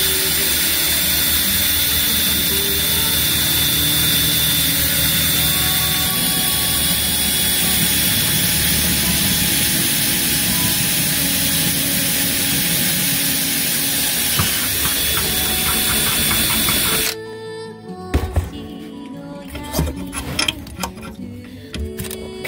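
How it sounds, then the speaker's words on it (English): A drill boring a hole in the metal cover of a Wurlitzer 5200 series wallbox jukebox held in a vise: a loud, steady grinding roar for about seventeen seconds, then it cuts off, leaving scattered clatter. "we're going to drill a hole here, close to the edge as possible"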